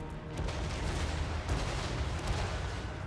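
A volley of gunfire crackles across a Total War: Warhammer 3 battlefield, with overlapping muffled shots and booms forming a steady, moderately distant rumble.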